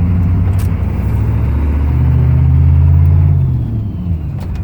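A Chevy 6.5 turbo diesel truck under way, engine rumbling steadily and close, its pitch rising and falling as a faulty DB2831-4911 injection pump surges.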